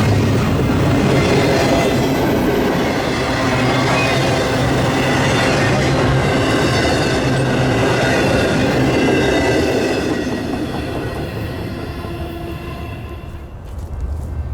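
CSX intermodal freight train 003, loaded with Amazon Prime containers, rumbles past at close range with a loud, continuous roar of wheels and rail cars that eases slightly toward the end, with no talk.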